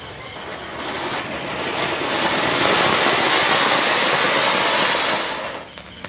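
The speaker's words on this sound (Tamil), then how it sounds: "அப்படியே செம்மையா வெடிக்குது" Sivakasi firecrackers, a ground fountain lit with a stick, erupt in a loud rushing hiss that swells, holds for several seconds, then cuts off.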